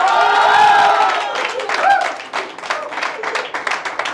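Audience applause at a live comedy poetry show swells from a dense roar into scattered, fading claps over a few seconds, with some crowd noise mixed in.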